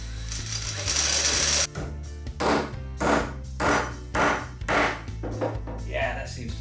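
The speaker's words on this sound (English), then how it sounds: "I'll just drill the hole just slightly bigger." A power drill widens a hole for a homemade lathe, running in several short loud bursts separated by brief pauses, with clattering handling noises in between.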